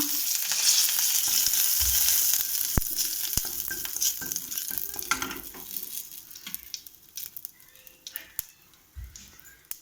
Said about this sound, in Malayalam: കടുകിട്ട് പൊട്ടിക്കഴിയുമ്പോൾ നമ്മൾ 2-3 കരിവേപ്പില ഇടുക